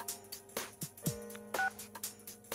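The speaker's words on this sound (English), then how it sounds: "Ring, ring, ring. Phone call, phone call." A telephone in the video game Persona 4 Golden gives a short series of quiet electronic tones and beeps in an uneven pattern, heard alone without voices.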